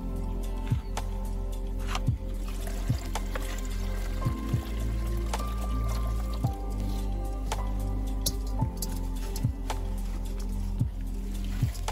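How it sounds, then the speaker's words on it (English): Mercury and gold amalgam from e-waste gold recovery poured into a smaller bowl, heard as a steady series of soft wet drips and squishy liquid plops, about one every second over a constant low hum, with no talking. "So now we pour the mercury gold mixture into a smaller bowl to clean it."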